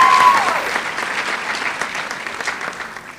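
Loud, dense applause from the audience at a university medical school white coat ceremony, a steady crowd clapping that stays strong and slowly eases over about three seconds.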